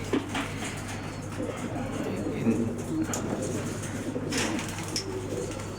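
Racing pigeons coo softly in a loft, a steady low murmur of several birds running throughout alongside a constant background hum, with faint talk in places.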